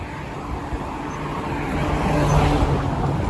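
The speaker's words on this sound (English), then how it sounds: "It's a police vehicle here, probably heading back to 12th Division." A police vehicle drives past on a residential Toronto street, its engine and tyre noise swelling gradually from a steady traffic wash, loud and broad, with no voices.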